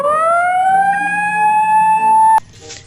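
A toy ambulance siren rises in a loud, steady electronic wail, sustained for over two seconds before stopping abruptly, close and alone.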